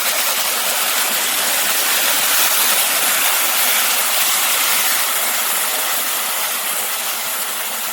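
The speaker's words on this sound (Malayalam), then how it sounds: "ഞാൻ 1/2 കപ്പ് ചൂടുവെള്ളം ഒഴിക്കുന്നത്" Half a cup of hot water is poured into Kerala-style egg roast masala in a pan over low flame, making a close, steady hiss and sizzle that holds continuously without any talk.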